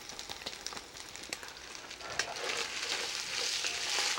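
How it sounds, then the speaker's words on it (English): White wine hits a hot pan with dry oregano to deglaze it, sizzling and crackling loudly and steadily, the hiss swelling stronger partway through. "I put a little bit of white wine just to deglaze everything"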